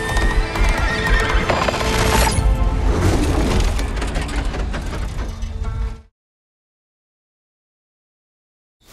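In an animated film, a horse whinnies loudly over pounding gallop hoofbeats and clattering effects, then everything cuts abruptly to silence.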